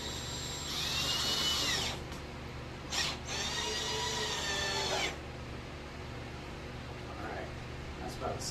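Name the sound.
power drill driving screws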